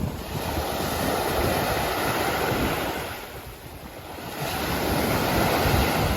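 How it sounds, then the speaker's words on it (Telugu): Sea waves wash onto the shore at Rameswaram at night, a broad rolling surge that eases off briefly midway and then swells back up, with wind buffeting the microphone. "సముద్రం అలలో సౌండ్ వినడానికి కూడా."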